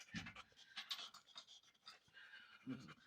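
A dog pants in quick, breathy bursts close by, with brief pauses between the runs of panting.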